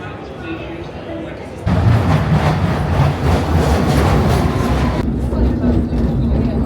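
London Underground metro train rumbling loudly through a tunnel, a sustained roar with rail clatter that swells abruptly and then eases slightly toward the end.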